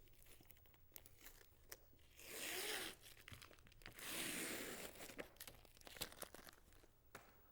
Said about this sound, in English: When removing tape from a cable that's stuck down, it's important to pull the tape off the cable first.